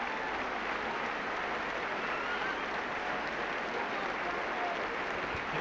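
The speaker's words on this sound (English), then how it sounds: "A sympathetic round of applause as Neil Harmon is stretchered off, the Leeds captain." A rugby league crowd at a Leeds versus St Helens match gives a sustained round of applause, a steady dense wash of clapping from a large stadium audience.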